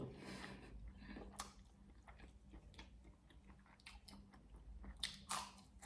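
Someone eats a boiled egg alongside spicy fish chili dip and fresh vegetables, with soft, close chewing and a few moist crunchy bites that come in intermittent, quiet bursts.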